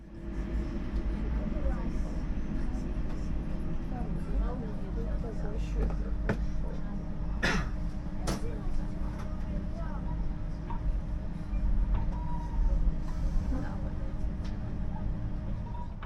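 A Chinese-built express train rolls slowly out of Tbilisi, a low continuous rumble with a few sharp clanks and rattles from the track, and a voice talking over the noise.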